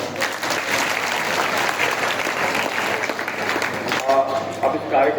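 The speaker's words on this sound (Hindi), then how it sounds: "वो सभी के लिए एक जोरदार तालियां।" Applause from an audience for drama performers at an anti-drug campaign event, a dense steady clapping that fills the room for about four seconds, then thins with a few voices and scattered claps near the end.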